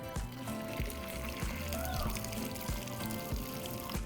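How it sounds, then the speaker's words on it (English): Cooked pasta shells are drained as hot water pours out in a steady gushing stream, spattering close up with faint kitchen clatter underneath and no speech. "we're going to drain our pasta."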